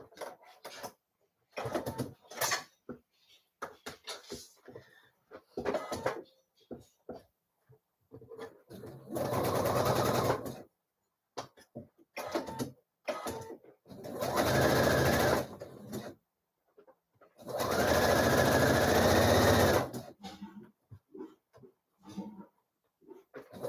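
Sewing machine joining dress pieces in short runs: several bursts of close, steady whirring separated by pauses filled with fabric handling and small clicks, with three longer stretches of stitching near the middle and end.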